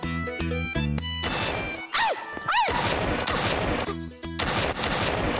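Rapid bursts of toy gunfire ring out in loud, busy volleys, broken by two rising-and-falling whistling zaps, all over playful cartoon music with no talk.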